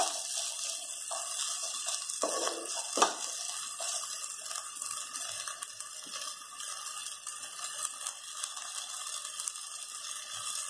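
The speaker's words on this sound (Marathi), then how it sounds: "पाणी मारा आणि एक दोन मिनटं झाकून ठेवा म्हणजे हिरवे वटाणे वाफेवर छान शिजतात" Water splashed into a hot pan of green peas and red rice, giving a steady hissing rush with a brief sharper burst early on, at a moderate, close level.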